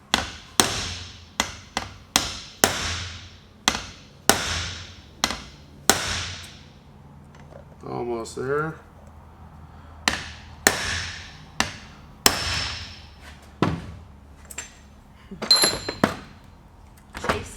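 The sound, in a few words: metal clinking while hammering van differential parts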